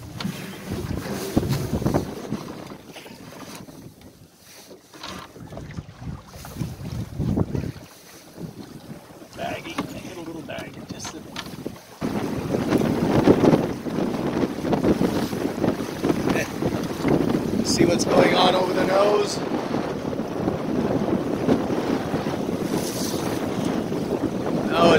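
Wind and water rush past a 16-foot home-built sailboat as it tacks, loud microphone buffeting with splashing waves building up after a quieter start, and someone speaking at times over it.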